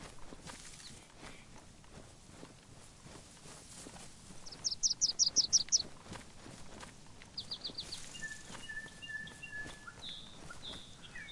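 Bird calls in DayZ, short rapid chirping trills heard twice over steady footsteps, moderately loud against the ambient outdoor backdrop.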